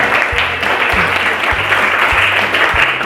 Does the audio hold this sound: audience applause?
yes